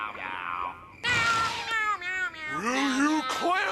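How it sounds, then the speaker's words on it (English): Cartoon snails from a SpongeBob episode meow in a loud, overlapping chorus of wavering, drawn-out cries that fill the scene after a quieter opening. "The last scene has all of the snails sitting and meowing at the fence that just spawned in for this episode"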